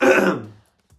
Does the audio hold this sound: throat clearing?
yes